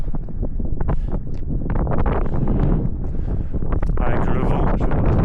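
Strong wind buffeting the microphone on a mountain ridge, a loud continuous roar and rumble throughout with a brief voice.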